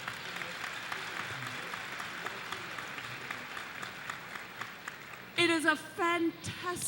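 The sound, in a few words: applause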